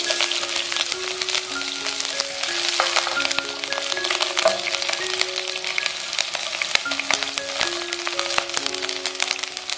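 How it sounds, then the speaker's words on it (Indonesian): Onion sautéing in a pan for a chayote dish, a steady close sizzle with scattered crackles and pops, joined by faint tonal music. "Biar lebih wangi, tumis dulu bawang bombay."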